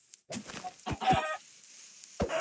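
Chickens cluck in Minecraft, several short, fairly close squawking bursts separated by brief quiet gaps, with no talk over them.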